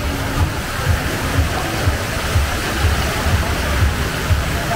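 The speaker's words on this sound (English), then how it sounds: "the water fountain show, or the water fountain" Steady rushing splash of a water fountain at night on Tenerife's Golden Mile, loud and continuous, with a faint rhythmic low thumping underneath.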